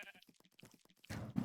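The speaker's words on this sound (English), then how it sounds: "There's sheep." Sheep in Minecraft bleat in a short burst of quick rhythmic cries, followed by a louder, rougher bleat, faint and alone.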